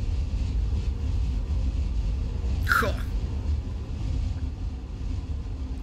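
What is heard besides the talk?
FW 190 engine and wind with canopy open, DCS video game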